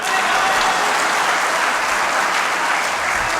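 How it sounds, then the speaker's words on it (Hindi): Loud, sustained applause from a crowd at a 93rd birthday celebration event for a poet, dense clapping that holds steady throughout with no talking. "अब आपके दोनों हाथ उठाकर तालियां देखूंगा"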